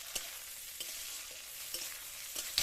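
Garlic, chili and tomato fry in a pan with a quiet, even sizzle. A few soft scraping stirs land at intervals, with no talking.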